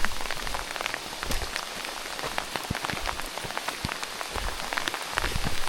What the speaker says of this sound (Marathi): पाऊस आला, लय जोरात आला पाऊस.